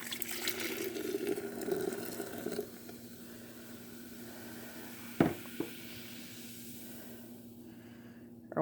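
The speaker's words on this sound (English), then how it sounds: "we're going to pour our champagne into our pitcher" Champagne is poured into a pitcher: a steady, close fizzing pour runs for about three seconds, then fades into a quieter hiss broken by a couple of brief clinks and a final splash.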